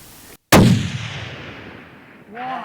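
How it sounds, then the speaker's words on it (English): A long-range hunting rifle fires once at a buck in Buffalo, Wyoming, a single loud close blast with a long fading rumble, then a voice begins to speak. "Nice shot. Nice shot. You dropped him."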